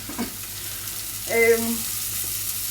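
A salmon fillet frying in a pan gives a steady, fairly quiet sizzle that runs throughout, with a brief louder burst of crackle partway through.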